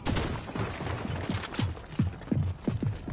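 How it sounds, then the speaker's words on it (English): Fortnite video game gunfire: a rapid series of sharp shots in quick succession, loud and close, with a few louder cracks toward the end and no talk over it. "I'm getting shot at"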